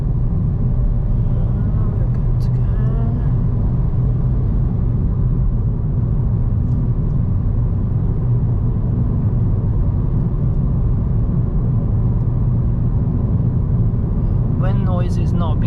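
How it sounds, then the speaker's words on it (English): Inside a 2022 Kia Stonic 1.4 petrol on a test drive, a constant low road and tire rumble fills the cabin, with only brief faint higher sounds near the start and end. "I do get most of the noise from the road, from the tire"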